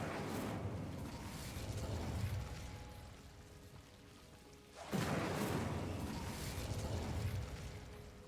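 Confringo and Incendio spells going off in Hogwarts Legacy: two broad whooshing bursts about five seconds apart, each swelling then fading, with a quieter rumbling lull between.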